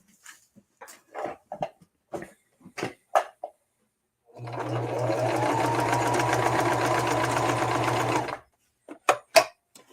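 A sewing machine stitches a test piece of fabric for a puppet build in one steady, loud mechanical run of about four seconds, framed by brief scattered handling sounds.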